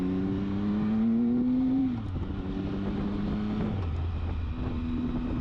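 Motorcycle engine riding through traffic in Utah while filtering between lanes, a close, steady hum whose pitch drops in steps as it slows, with wind noise and no talking.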